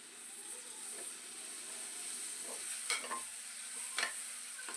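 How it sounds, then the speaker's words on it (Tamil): Chopped tomatoes with salt sautéing in a pot for a onepot mushroom biryani give a soft, steady sizzle, broken by a few brief scraping stirs of a spoon, quiet and close with no talk. "இந்த தக்காளி வதங்குறதுக்கு தேவையான உப்பு போட்டு இதை வதக்கி விட்டுக்கலாம்."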